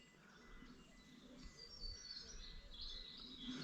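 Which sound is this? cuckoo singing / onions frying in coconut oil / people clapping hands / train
cuckoo singing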